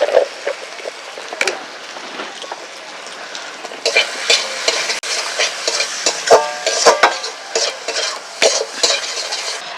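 Spices with turmeric, salt and Kashmiri chili powder are stirred and fried in a pan, starting as a low sizzle and turning busier with repeated scraping and clattering of a spoon.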